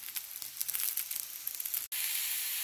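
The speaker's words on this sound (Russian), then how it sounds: "Грибы опускаю на сухую сковородочку." A steady, close sizzling hiss of mushrooms cooking in a hot dry frying pan with no oil, cut off briefly near the end before the hiss resumes.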